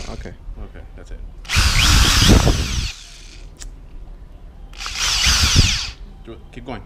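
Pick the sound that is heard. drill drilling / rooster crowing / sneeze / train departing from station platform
drill drilling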